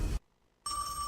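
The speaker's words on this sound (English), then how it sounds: "Yeah, that was the phone." A telephone rings once: a bright electronic ring tone starts abruptly after a short burst of low noise and a brief silence, fairly close and clear.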